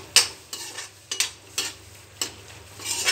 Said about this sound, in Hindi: देखिए हमने सारे मसाले अच्छी तरह से भून लिए हैं।